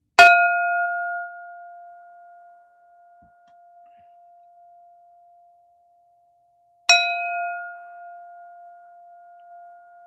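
A meditation bell is struck twice, about seven seconds apart, each strike a clear ringing tone that decays slowly into near silence.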